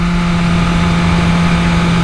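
A new BMW S1000RR sport bike engine pulls hard and steady in cold weather, a loud, continuous buzzing roar held close at a constant pitch with no pauses.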